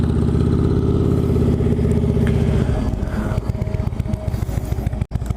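An Indian Chieftain Dark Horse cruiser motorcycle from 2018 rumbles loudly close by, a steady deep engine throb that shifts into a lumpier, pulsing note as it moves past, with a brief dropout near the end.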